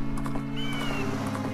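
A horse gallops in The Legend of Zelda: Majora's Mask, with quick, steady hoofbeats running under layered game music and a short rising whinny-like tone in the middle, fairly close and evenly loud.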